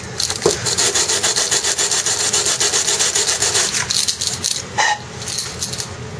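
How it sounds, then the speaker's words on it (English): Sandpaper held flat rubs against the cut end of a carbon fiber bicycle seatpost in a quick, steady back-and-forth rasp that stays close and fairly loud throughout. "Just put a little sandpaper flat"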